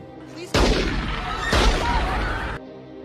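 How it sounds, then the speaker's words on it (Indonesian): Two loud, sharp blasts roughly a second apart, each with a booming tail that rings out before cutting off. "ia melepaskan tembakan"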